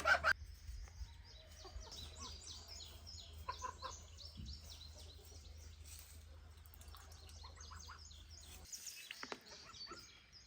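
Faint turkey and fowl calls chirp and gobble intermittently over a low steady hum, with a few louder knocks at the start.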